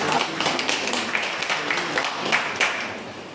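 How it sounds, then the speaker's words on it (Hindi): Audience applause and clapping welcoming the vice-chancellor at an inauguration ceremony, a dense, steady burst of many hands lasting a few seconds at moderate volume. "आप सबों से अनुरोध करता हूँ कि एक बार तालियों के साथ माननीय कुलपति महोदय का"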